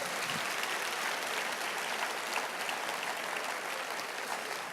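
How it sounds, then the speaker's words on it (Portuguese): A church congregation applauds during an evangelistic sermon, a continuous wash of clapping held at an even level for several seconds. "Se é para Jesus, aplauda, aplauda."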